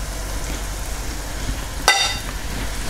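Seasoned flour cooking in melted butter in a pan for pork chop gravy, heard as a steady, close, soft frying hiss with one brief sharper scrape or clatter midway.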